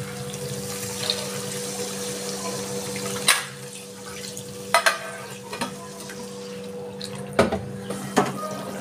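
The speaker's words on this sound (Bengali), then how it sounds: "আমার কষানো হয়ে গেছে, আমি এবার জল দিয়ে দিচ্ছি।" Water is poured into a sautéed katla fish kofta curry with potatoes, giving a steady rushing sizzle over a low hum, with a few sharp utensil knocks.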